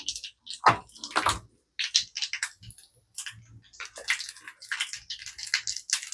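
Mustard seeds and cumin spluttering in very hot oil for vada pav tempering: dense crackling pops and sizzling bursts, some sharp and close, coming in uneven clusters throughout with short quiet gaps.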